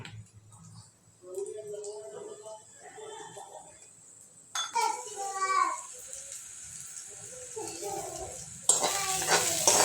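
Mustard seeds and cumin sizzle in a pan while tempering for a black-eyed pea (chavli) amti, with a louder burst of crackling near the end, all under steady talking.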